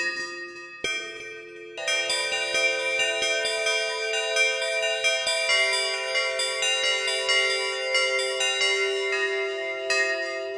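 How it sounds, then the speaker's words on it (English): A bell preset played on a Lumi Keys keyboard sounds a few separate bell notes, then a denser run of overlapping chimes that ring on with long sustain. "The X bell."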